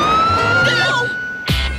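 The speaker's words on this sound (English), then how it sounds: "No, but there's a police car." A police car siren sounds loud and close in an animated cartoon scene: a sustained, steady high tone with bright overtones runs the length of the moment while other thumps and swishes pass beneath it.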